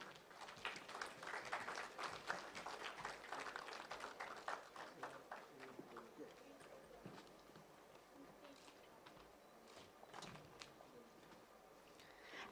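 Scattered audience clapping for a guest of honor at the India Plant Based Foods Show at Bharat Mandapam, New Delhi, fairly quiet and distant, strongest early then tapering into sparse claps.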